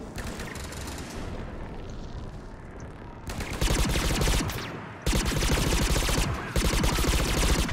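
Gunfire and explosive combat in Mass Effect 3: a quieter rumbling stretch gives way to loud, dense bursts of automatic fire and heavy blasts that carry on almost continuously to the end.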